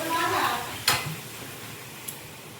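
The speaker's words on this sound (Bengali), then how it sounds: "পরিমাণ মতো জল দিয়ে দেবো" Water hits a pan of sizzling fried masala for paneer curry, a brief loud splash and hiss over a fading crackle of frying, with a small clink near the end.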